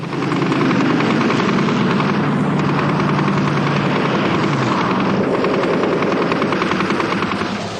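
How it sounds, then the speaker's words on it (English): A Spitfire Mk V fighter over Malta drones with a loud, constant engine roar throughout, with faint rapid chatter like gunfire mixed into the steady noise. "This unique gun camera film shows a Spitfire 5 caught over Malta, outturning its German opponent under relentless fire to emerge unscathed."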